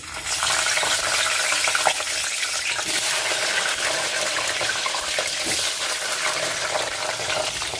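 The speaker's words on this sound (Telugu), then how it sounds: "వంకాయలు ఇట్లా ఆయిల్లో వేయించాలి." Stuffed brinjals fry in hot oil for a gutti vankaya masala curry, giving a steady, dense sizzle that holds evenly throughout, with a few soft pops and stirring knocks close by.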